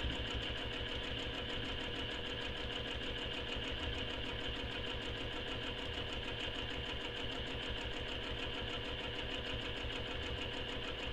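Sewing machine stitching a crossbody bag: fast, even mechanical whirring with rapid needle clatter, held continuously and close without pause or talk.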